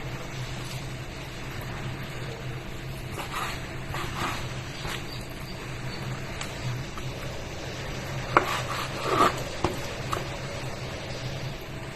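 A knife chops onion and garlic while a Romanian-style chicken is prepared. A few faint, scattered knocks rise over a steady low background hum, with no talking.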